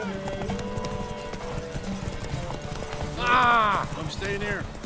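Geralt's horse Roach gallops in The Witcher 3 on PS5 with a steady rhythm of hoofbeats under game voices and music, followed by a sharp, loud whinny near the end.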